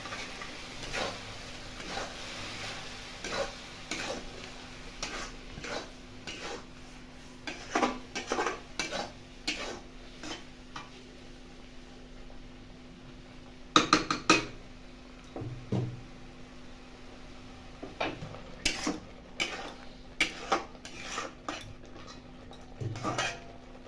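A metal spatula scrapes and taps a wok again and again while prawn masala fries in it, giving sharp irregular clinks and scrapes over a quiet background, close and fairly faint overall, with no talking.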